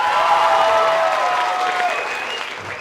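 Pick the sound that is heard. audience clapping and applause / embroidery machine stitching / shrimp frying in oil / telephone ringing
audience clapping and applause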